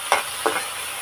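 Small shrimp frying in oil in a pan, a steady close sizzle with two brief stirring scrapes.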